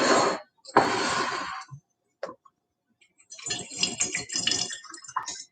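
Pina colada kombucha, brewed with coconut water and pineapple, splashes through a funnel into six bottles in a few loud, broadband pouring bursts separated by short silences, close by.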